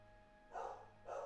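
Faint dogs bark in the distance, two separate muffled barks spaced about half a second apart over a quiet background hum.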